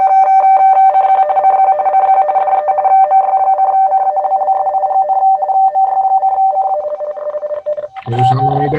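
Radioteletype (RTTY) signal played through a phone app's speaker, a steady warbling two-tone data stream running for about eight seconds before a brief burst of other noise at the end.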